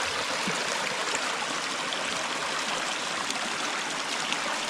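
A forest stream flows in a steady, broadband rush of water, close and continuous with no pauses or voices.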